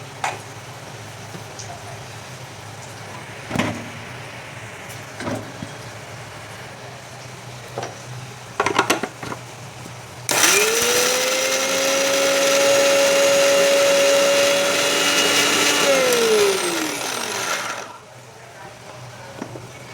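A kitchen mixer grinder blends masala paste, starting abruptly after a few scattered knocks and clatters, then holding a loud steady whirring drone for about seven seconds before winding down and stopping.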